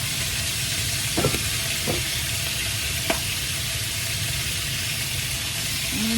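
Three cups of lean ground beef sizzle in a hot pan for spicy basil beef, a loud steady hiss with a few soft clinks and scrapes near the start, close up and without speech.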